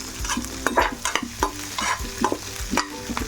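Ginger pieces and curry leaves frying in a pan for ginger chutney, crisp sizzling punctuated by rhythmic stirring strokes of a spoon against the pan, close and distinct with no talking.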